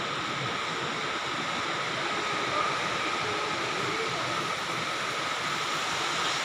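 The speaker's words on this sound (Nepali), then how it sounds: "बाहिर चाहिँ एकदम पानी परेर चाहिँ" Heavy rain falls outside in a steady, dense roaring hiss that stays even and unbroken throughout, with no voices.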